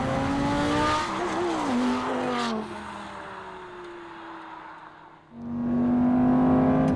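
Lamborghini Gallardo Superleggera braking hard: a loud, close engine note drops in pitch as the car slows, then fades, and surges back up as it accelerates again.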